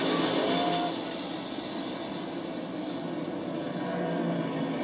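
NASCAR stock cars at the 2022 Bank of America Roval 400 roaring into turn 1, a dense continuous engine drone from a distant pack, loudest at the start then easing slightly before swelling again.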